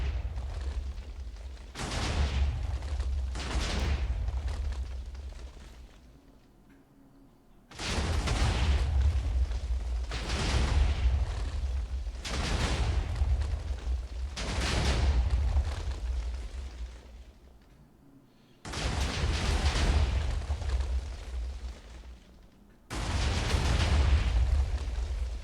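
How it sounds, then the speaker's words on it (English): TNT blocks in a Minecraft Mega TNT mod detonate one after another, producing loud, deep booming blasts in several rolling clusters separated by brief lulls, with no talk. "You need to have a low area so that they can explode one by one."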